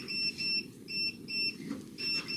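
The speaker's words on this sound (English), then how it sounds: "Is that you beeping, Al?" A device at a committee meeting gives out a series of short, clear electronic beeps in an irregular pattern, paired tones repeating several times above a low room murmur.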